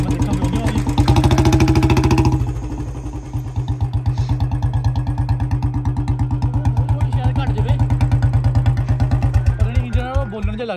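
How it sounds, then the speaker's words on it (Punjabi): A Royal Enfield Bullet BS6 motorcycle engine runs close by. It revs higher for the first two seconds, then settles into a steady, loud, thumping idle with evenly spaced firing beats. "ਇੰਜਣ ਦੇ ਵਿੱਚ ਜਿਹੜੀ ਖਾਸੀ ਆਵਾਜ਼ ਆਉਣ ਲੱਗ"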